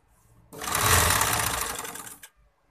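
A sewing machine stitches the sleeve of a kameez in one loud, steady burst of rapid whirring that stops abruptly after under two seconds.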